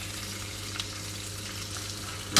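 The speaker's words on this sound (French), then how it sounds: "je vais faire colorer mes scampi comme ceci" Scampi fry in a pan with a steady, close hiss and crackle, broken by a faint stirring scrape and a brief clatter at the end, and no voices.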